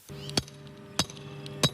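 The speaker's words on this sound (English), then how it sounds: "volunteers are loading these flags onto trucks and hammering pins into the ground" Volunteers hammer metal pins for lawn flags into the ground outdoors: three sharp, close strikes about two-thirds of a second apart, each with a short ringing tail, with no voices.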